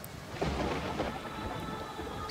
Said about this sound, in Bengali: ঠিক তখন বজ্রপাত হলো, প্রচণ্ড বজ্রপাত।